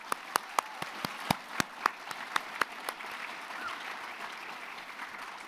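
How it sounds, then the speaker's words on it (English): An audience applauds at a Simi Valley youth town hall, with a string of sharp, evenly spaced claps close by over a softer wash of crowd clapping that thins out. "Big round of applause for them."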